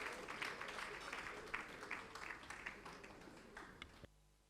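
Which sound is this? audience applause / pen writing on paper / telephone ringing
audience applause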